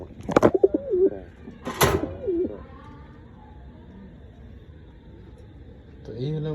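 Pigeons coo in a small backyard pigeon farm, with a couple of loud close calls early on and softer cooing with rustling afterward, ending in a low murmur.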